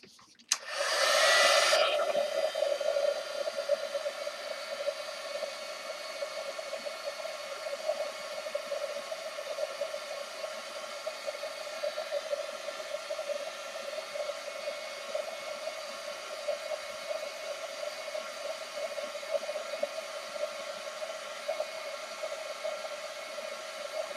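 A dryer switches on with a burst of air, then blows with a steady whirring hum for a long stretch, close and unchanging, drying paint on burlap.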